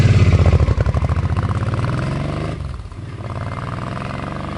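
A 2005 Suzuki C50 Boulevard motorcycle engine runs close by with a steady, throbbing idle pulse, loud and alone, easing slightly quieter partway through.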